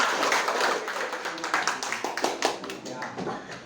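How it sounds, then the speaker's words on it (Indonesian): Pupils in a school guidance and counselling class clap their hands together after a chant, a dense burst of claps mixed with voices, fairly close and moderately loud. "Tepuk tangan."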